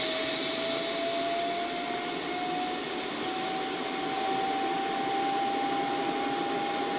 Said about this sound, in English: Alright, APU is on, and it's just spooling down.